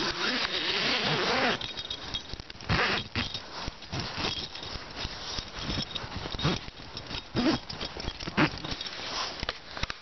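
Zipper on a Hennessy Expedition Zip hammock being worked, with a long pull, then a series of short ragged zips and fabric rustles close by.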